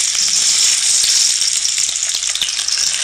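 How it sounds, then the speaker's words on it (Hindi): Finely chopped medium onion and two green chillies sizzling in a third of a cup of hot oil, a loud, dense, continuous frying hiss heard close up, with no voices. "अब इधर दूसरी तरफ ऐड करना है 1/3 कप ऑयल और 2 हरी मिर्चें और साथ एक मीडियम साइज़ की प्याज"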